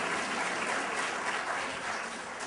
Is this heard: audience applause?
yes